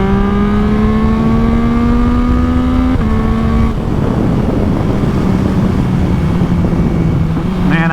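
A flashed Yamaha MT-09 motorcycle engine roars loud and close, revving up in steady pitch, dipping briefly at a shift, then droning on with rough wind-blown rumble.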